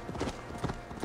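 Horse hooves clip-clop in quick, rhythmic beats as a horse is ridden fast in Assassin's Creed Valhalla, steady and fairly close with faint background sound.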